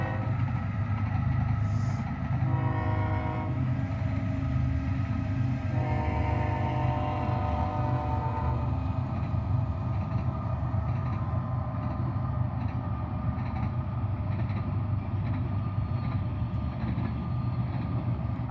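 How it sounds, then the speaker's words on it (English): A train passing near an airport, a continuous heavy low rumble with rolling mechanical drone and brief tonal squeal or horn-like bands early on, steady and loud throughout. "And we got a train coming."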